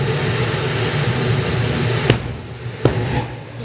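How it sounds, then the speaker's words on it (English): A spooled-up jet engine roars continuously in front of a tower at an airshow, with two short sharp pulses from afterburner hits breaking through the steady noise. "The next hit to the afterburner is going to pulse through the tower."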